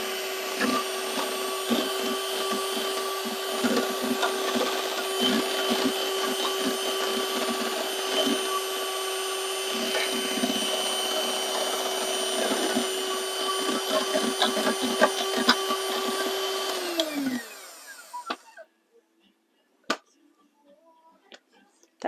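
A stick mixer beats egg whites in a home kitchen for a coconut and jam slice, a steady close motor whine running without a break for about seventeen seconds before it winds down and stops, followed by a few quiet clicks.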